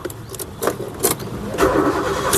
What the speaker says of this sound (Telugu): కారు స్టార్ట్ చేసి చూపిస్తాను